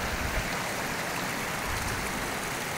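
Water runs steadily in a stream beside a goat farm in Nepal's hills, a continuous broadband rush heard close by with no talk.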